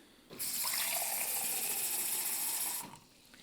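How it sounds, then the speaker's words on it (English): Water gushes steadily from a tap into a container of tomato seeds for about two and a half seconds, then shuts off abruptly. "Then I'm going to add water"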